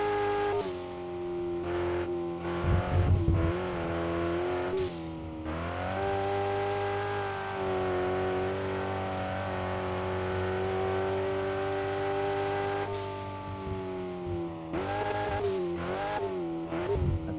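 A car engine in the RevHead racing game revs hard and steadily on dirt roads, its sustained droning pitch rising and falling through the gears with a few sharp throttle blips, loud and continuous with no talking.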